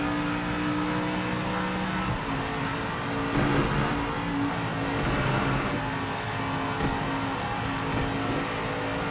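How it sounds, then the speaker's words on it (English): Mercedes-AMG race car in the Project Motor Racing video game: a continuous, droning engine note that rises and falls as the car accelerates, with a brief louder surge midway, steady and fairly prominent. "Boy, now this AMG sounds so damn good."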